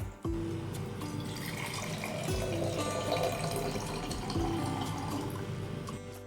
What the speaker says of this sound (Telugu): నేను ఒక గ్లాస్ జార్లో ఒక గ్లాస్ ఆఫ్ వాటర్ తీసుకున్నాను